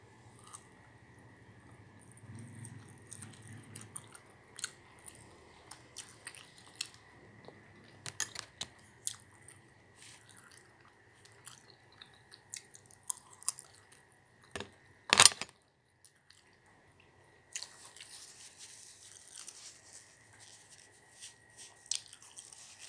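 Quiet close chewing and crunching of lunch food in a quarantine room, with soft bites and mouth sounds scattered throughout and one sharp loud clatter midway.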